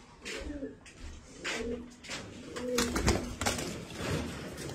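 Chinese teddy pigeons coo in repeated soft rolling phrases, with flutters and wingbeats as they are chased into flight nearby, mixed with light background voices.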